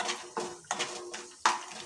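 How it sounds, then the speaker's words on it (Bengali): Peanuts and cashews stirred in a frying pan, with several sharp scraping strokes of a utensil against the metal at irregular intervals over a faint background hiss, close and moderately quiet. "আর একটু নাড়াচাড়া করে ভেজে নেব।"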